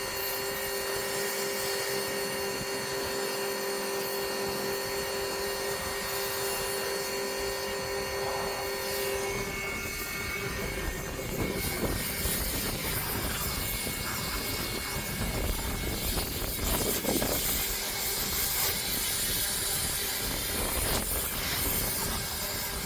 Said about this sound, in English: The good thing with this battery pressure washer, like I said, it's a 40 volt battery